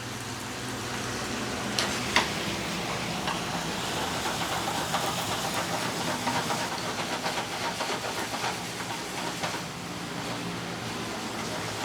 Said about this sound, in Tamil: அந்த ஈரல் கலர் மாறின அளவுக்கு நம்ம விதக்கணும்